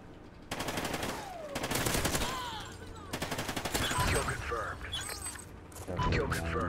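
Hip-fire bursts from a gun in Call of Duty: Ghosts during a Search and Destroy round, with loud rapid volleys that start, pause and resume amid other in-game clatter and effects.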